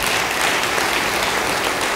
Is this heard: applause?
yes